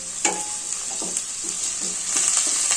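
Cauliflower is added to a mixed vegetable curry frying in a pan, giving a steady loud sizzle with repeated soft stirring scrapes and taps, and no talking.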